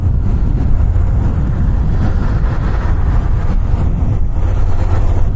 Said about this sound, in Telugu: బాగా గట్టిగానే వస్తుంది అలలు.